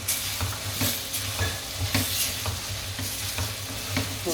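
Potatoes and peas sautéing in masala in a pan for mutton kothu kari, with a steady close sizzle and repeated rhythmic scrapes of a spoon stirring, no talk.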